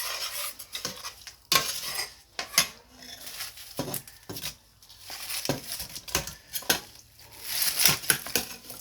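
A spoon stirring masala and fried fish in a metal pot for fish biryani, with repeated clanks, scrapes and sloshing strokes in an irregular rhythm, close and fairly loud.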